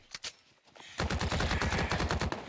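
Gunfire in the video game The Cycle: Frontier: a couple of isolated shots, then a sustained rapid automatic burst of evenly spaced, loud, close reports lasting over a second.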